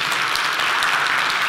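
Audience applause at an evening conference hall event, a steady dense patter of many hands clapping at moderate loudness throughout, with no voices standing out.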